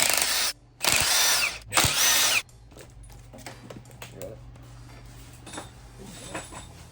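Power tools work on a 1986 Foxbody Mustang engine, pulling the link bars out: two loud whirring bursts, then quieter ratcheting clicks and scattered metallic taps.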